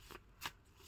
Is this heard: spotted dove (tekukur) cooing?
no